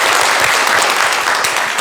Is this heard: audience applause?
yes